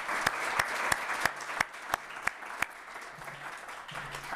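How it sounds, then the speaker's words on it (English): Audience applause at a student poetry reading, a room full of clapping that keeps an even level throughout, with a few sharp, louder claps standing out near the start. "I think it would be remiss of us to not have a round of applause for Giovanni and all the volunteers"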